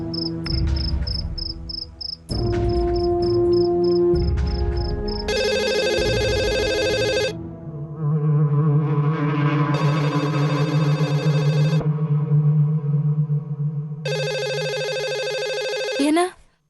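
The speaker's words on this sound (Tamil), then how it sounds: "ஆஃபீஸ்ல ஃபோன் அடிக்கிற சத்தம் கேக்குது" A telephone rings in an office, heard as repeated electronic trilling bursts with pauses between them, loud and close, alongside a steady low tone and some background music.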